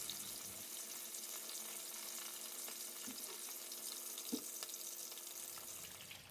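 Fish for sweet Thai chilli fried fish left cooking in oil in a pan, a faint, even background sizzle with a couple of soft pops, otherwise quiet.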